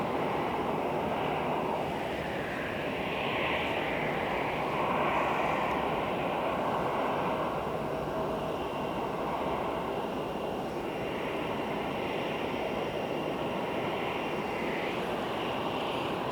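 A jet airliner on runway 26 at Phoenix airport just after touchdown, a broad steady engine roar that swells and eases over about sixteen seconds with no talk over it.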